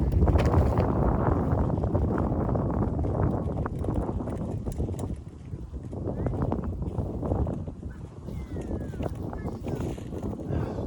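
Wind gusts across an outdoor disc golf course, buffeting the microphone with steady rumbling noise throughout.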